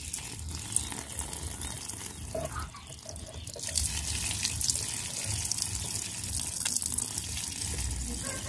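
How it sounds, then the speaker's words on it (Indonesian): Detergent water is poured out from soaked Colocasia Black Coral tuber cuttings, a steady splashing, running pour that continues for the full stretch with a brief dip partway through, close and fairly loud. "kemudian kita buang air deterjennya"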